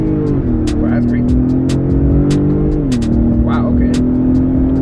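A 2018 Ford Raptor's twin-turbocharged 3.5-liter EcoBoost V6 revs up loudly, its deep hum climbing and holding, then surging again, with a few clicks and a voice briefly heard.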